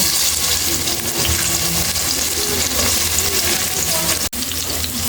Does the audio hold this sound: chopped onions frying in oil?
yes